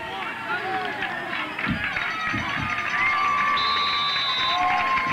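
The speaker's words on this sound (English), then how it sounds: "Bobcat crowd coming to its feet right down below start us. Start to crank it up." Home crowd at a high school football game, Kearsley vs Grand Blanc, cheering as fans come to their feet; a broad, sustained roar with whistles and shouts swelling louder partway through, with announcer speech over it.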